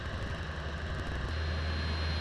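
A light aircraft engine runs rough from carburetor ice while climbing at 3,500 feet, a close, steady, loud drone that fills the whole stretch without pause or speech.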